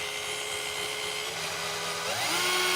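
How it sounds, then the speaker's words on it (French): A drill bores a countersink hole into wood for a screw head, whining steadily at close range, then rising in pitch and loudness near the end as the bit bites deeper. "Et tu as une fraise ici qui va laisser une empreinte dans le bois suffisamment large pour cacher la tête de vis."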